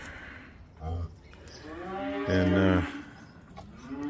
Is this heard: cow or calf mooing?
yes